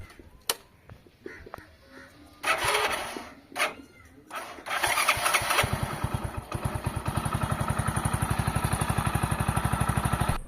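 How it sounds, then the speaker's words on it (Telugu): Motorcycle with an acceleration and jerking fault being started: a few scattered clicks and short bursts of cranking, then the engine catches and settles into a steady, rapid, pulsing idle, close and fairly loud, with no talking. "చూశారు కదా బండి అయితే గా స్టార్ట్ అవుతుంది"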